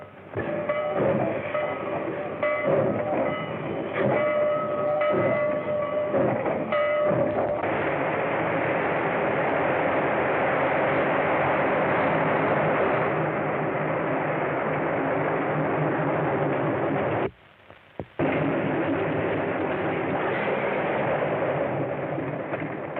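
A train runs steadily along the rails, its loud rumble continuous and close, with a tonal hum early on and a brief drop near the end before the noise resumes.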